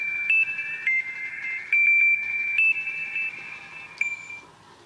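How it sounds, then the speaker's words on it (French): An alarm clock ringing at five in the morning, sounding a steady, high electronic tone that repeats in short pulses with slight pitch changes, fairly close and clear over faint background, with no voices. "Et il y a le réveil qui sonne"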